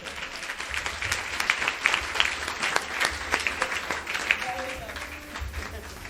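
A church congregation at a sermon bursts into loud applause, many hands clapping together in a dense, lively burst with sharp individual claps standing out, faint voices mixed in underneath.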